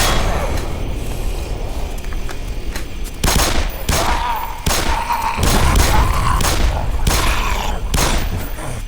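Gunfire in the video game Black Mesa, a rapid volley of loud, sharp shots and heavy thuds cracking out in clusters over several seconds, with a faint voice underneath.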